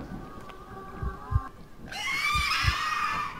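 A creature screams in the Bunny Man Lost Souls horror game, a shrill, sustained cry that starts midway and rises over dull, rhythmic thumping like a heartbeat.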